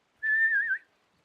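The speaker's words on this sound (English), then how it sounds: "now I primarily whistle on an inhale" A single person whistles a steady, sustained note while drawing breath inward, slightly wavering in pitch, close and clear for about half a second with nothing else around it.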